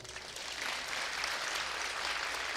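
An audience at a spiritual talk breaks into sustained, dense applause, a steady wash of many hands clapping together at moderate volume without any talk over it.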